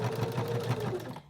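A sewing machine stitching a DIY sewing kit project, a steady fast mechanical whir with a regular rapid needle rhythm, close and clear, stopping abruptly just before the end.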